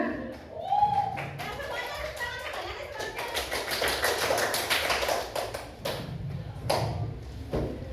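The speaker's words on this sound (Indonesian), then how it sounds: "beri tepuk tangan untuk Sulaiman." Students in a classroom clap for a classmate, a burst of quick, close hand claps that swells and then tapers, with children's voices chattering underneath.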